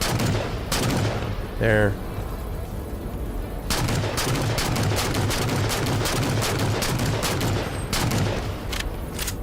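Heavy gunfire against enemies in Halo MCC, dense rapid shots and bursts pounding almost continuously, with a rising whine partway through and a brief spoken word.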